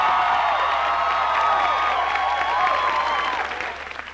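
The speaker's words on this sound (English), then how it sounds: "Okay, I'm holding down the applause button, Deborah." Canned applause from a studio applause button on a comedy news show, a steady burst of clapping and crowd noise lasting about three seconds before tapering off.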